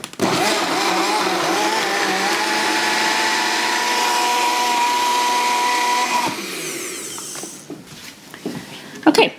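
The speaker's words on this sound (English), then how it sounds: "Okay, so we are going to blend that up" A blender whirs steadily for about six seconds as it purees chicken, egg whites and a whole egg into a batter for keto lasagna noodles, then winds down and stops, leaving a few faint clicks and handling sounds.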